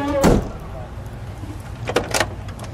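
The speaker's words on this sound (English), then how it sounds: "We can shut that trunk." Trunk lid of a 1970 Dodge Coronet Super Bee being shut, one solid thump early on, followed by lighter knocks and handling sounds, with a voice speaking nearby.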